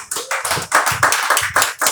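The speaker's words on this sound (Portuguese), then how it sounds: "louvando a Deus com uma salva de palmas bem alegre para Jesus" A church congregation claps joyfully for Jesus in a brisk, rhythmic unison beat, loud and close, with no talk over it.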